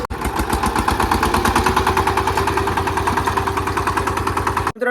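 Tractor engine revving in third gear on a road, a loud, close, rapid chugging pulse that holds steady and cuts off briefly near the end.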